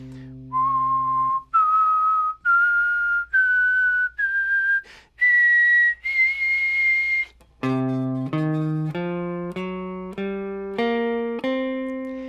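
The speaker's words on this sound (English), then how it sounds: "So if I whistled those notes, it would sound like this." A clear whistled run of blues-scale notes climbing step by step, each held briefly, then a sequence of steady tones descending, close and loud.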